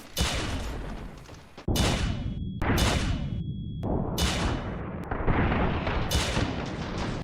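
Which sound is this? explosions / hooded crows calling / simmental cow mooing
explosions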